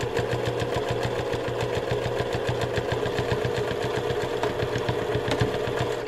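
A sewing machine runs steadily, stitching a quarter-inch seam on a cathedral windows pincushion. The rapid even needle rhythm and motor hum continue without a break at close range.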